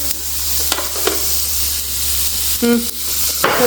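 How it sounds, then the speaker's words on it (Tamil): Cheese sizzles steadily in a hot pan for a Swiss winter dish, a dense hiss running throughout, broken by a few sharp scrapes and clinks of a utensil toward the end. "பாருங்க எப்படி பொரியுதுண்டு. இது கிரில் ஆகிக்கொண்டிருக்கு."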